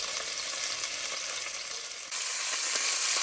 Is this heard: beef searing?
yes